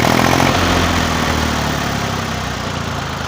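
A Massey Ferguson 35 tractor with a Perkins P3 diesel engine runs steadily just after starting, a loud close continuous idle rumble that eases slightly in level, with no talk.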